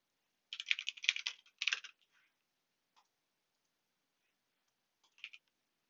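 A burst of quick keyboard typing, close and fairly quiet, then near silence with a couple of stray key clicks.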